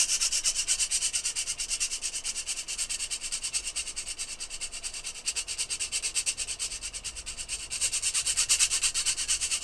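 Staedtler and Koh-I-Noor watercolor pencil leads scrape against a grater in a fast, steady rasping rhythm, close and continuous with no talking.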